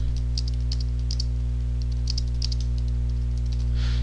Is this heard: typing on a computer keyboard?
yes